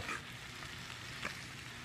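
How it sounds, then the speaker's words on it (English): Steady frying sizzle of yellow and green squash in a pan, a continuous hiss with faint crackles and a small pop partway through. "You can now hear this sizzling."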